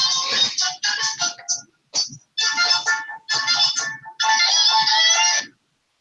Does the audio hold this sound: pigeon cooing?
no